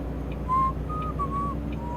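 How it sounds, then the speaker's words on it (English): A person whistles a few short, thin tonal notes, mid-loud over a steady low engine-like drone, with brief pauses between the phrases. "And you may not have heard me whistling"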